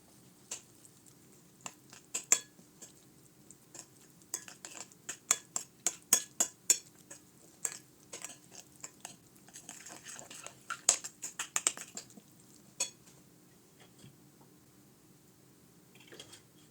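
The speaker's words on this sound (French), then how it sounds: "Et remuez jusqu'à ce que le piment absorbe presque toute l'huile" A spoon stirs harissa chili paste with olive oil in a bowl, giving an irregular series of light clinks and scrapes, close and moderately quiet, with no voices.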